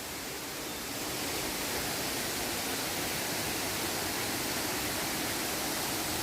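Kattar waterfall in the Veerappan forest pours steadily, a dense, continuous rushing roar of falling water that stays loud and unbroken throughout, with no voices.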